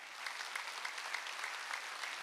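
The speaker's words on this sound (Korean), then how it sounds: "박수 좀 쳐줘요" A church congregation at a Wednesday worship service applauds steadily, a dense, even wash of many hands clapping without pause.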